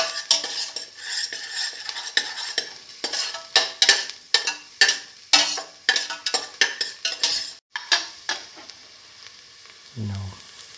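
Repeated metal-on-pan scraping and clinks from stirring a sauté for a cheese fenugreek rice dish, rhythmic and close, with a faint sizzle underneath and a brief low thump near the end.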